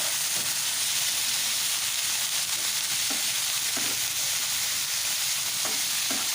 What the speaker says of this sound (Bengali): বটবটিগুলো একটু নেড়ে চেড়ে একটু হালকা ভাজা প্লাস সেদ্ধ টাইপের করে নিতে হবে।